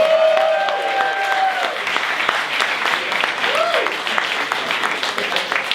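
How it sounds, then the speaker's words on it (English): A comedy club audience applauds and claps for a stand-up comedian, a sustained wash of clapping with some cheering tones and a voice faintly underneath. "So put your hands together, start clapping for Willie Simon!"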